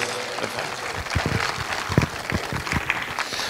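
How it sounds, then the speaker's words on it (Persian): A festival crowd applauds a governor with steady, dense clapping that carries on throughout, moderately loud with a few sharper individual claps standing out. "فرماندار به این خوبی رو اینقدر شایسته باید تشویق کرد."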